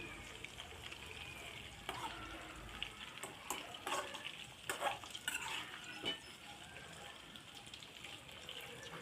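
Masala for a Telangana stuffed brinjal curry cooking in oil while being stirred, giving faint scraping and clinking strokes over a low sizzle, with some watery sounds in the background.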